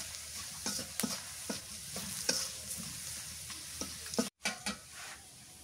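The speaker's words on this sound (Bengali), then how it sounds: "পেঁয়াজ ভাজা হয়ে গেছে" Onions frying in oil in a pan for lentil dal with turmeric, a steady close sizzle broken by scraping stirs, with a brief cut of silence near the end.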